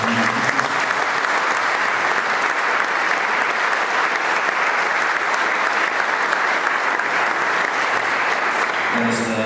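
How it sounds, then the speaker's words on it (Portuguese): Loud, sustained applause from a church audience fills nearly ten seconds with dense, uniform clapping, and a voice comes in briefly at the very end. "merece uma salva de palmas para ele"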